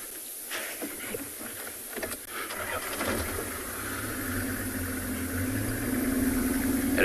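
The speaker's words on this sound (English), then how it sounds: "So we're just gonna continue driving down on this riverbed." Safari vehicle driving down a dry riverbed at sunrise, a mid-pitched engine hum building steadily louder over several seconds with some rattling and vibration, no speech.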